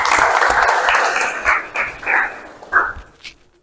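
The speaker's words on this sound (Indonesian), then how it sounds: "Tepuk tangan untuk kita semuanya" Classroom applause from students for a quiz answer on Islamic history, a dense wash of clapping that thins into scattered claps and fades out by the end.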